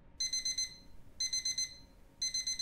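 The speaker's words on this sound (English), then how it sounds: "God, I hate the noise of alarms" A horror video game alarm clock goes off at six AM: three bursts of rapid electronic beeping, evenly spaced about a second apart, bright and piercing with short gaps between.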